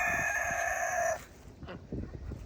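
A rooster crows loudly and steadily for about a second on a farm, then stops, leaving scattered low clucking and scuffling from nearby chickens, ducks and a goose.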